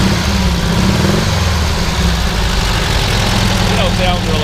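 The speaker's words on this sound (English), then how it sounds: "Go ahead and rev it up just a little bit." A 1974 Volkswagen Thing engine runs loud and close, a steady low idle with a slight rise in revs, continuous through the whole stretch.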